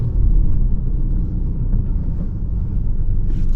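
Isuzu D-Max with an AC60 automatic transmission and original TCU downshifting: a steady, loud low engine rumble and drivetrain drone from inside the vehicle, holding evenly with no voices.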